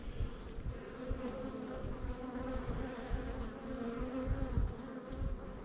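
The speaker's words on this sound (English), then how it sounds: "This one is fine, and still large amount of bees" Large numbers of honeybees hum around an open beehive during a frame check, a steady, low, continuous drone close by with no voices.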